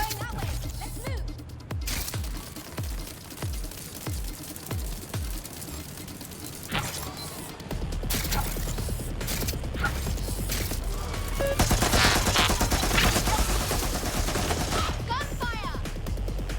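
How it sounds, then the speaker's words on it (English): Bursts of game gunfire in Watch Dogs Legion, with scattered shots and clattering mechanical sounds early on, then sustained heavier volleys that intensify toward the end amid ambient noise. "Gunfire!"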